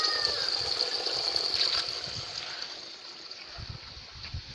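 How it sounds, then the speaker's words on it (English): Water flows and trickles steadily through the exposed roots of lettuce in an aquaponic system, a soft continuous wash with faint splashing, heard alone without talk. "as you can see, there's water flowing"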